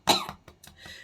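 A person with a cough coughs: one strong, harsh cough followed by two shorter, weaker coughs and a rougher trailing burst, all close and alone with no talking.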